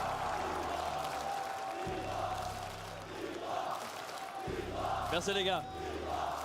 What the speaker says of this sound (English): Continuez d'applaudir Hydra,